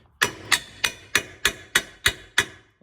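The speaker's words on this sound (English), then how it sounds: "Haven't done anything yet, but I am starting to hammer." Eight sharp, evenly spaced metal hammer strikes ring out close by as a control arm ball joint is knocked loose from the steering knuckle during a front-end teardown of a 2004 Subaru Forester.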